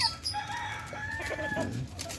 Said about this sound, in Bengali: এই যে পাশেও এই গলা ছোলা মোরগ